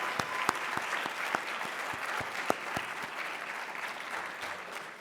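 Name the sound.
audience applause for class representatives at a convocation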